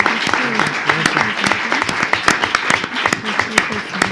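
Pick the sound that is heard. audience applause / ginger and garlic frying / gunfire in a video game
audience applause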